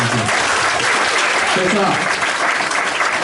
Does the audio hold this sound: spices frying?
no